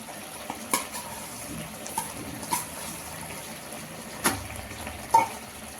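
Cooked toor dal goes into a pot of boiled spinach, making a soft bubbling simmer close by, with a few sharp clanks and wet plops from stirring and spooning.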